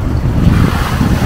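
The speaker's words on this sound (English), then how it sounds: "Not with this wind, with the wave of water." Loud, continuous wash of ocean waves mixed with heavy wind buffeting the microphone on a beach at Puttgarden, a dense low roar without voices.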